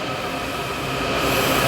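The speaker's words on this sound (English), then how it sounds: "Sorry about the background noise, y'all. It's a train." A passing train makes a loud, continuous rumble and rattle close by, steady throughout and swelling slightly toward the end, with no voices.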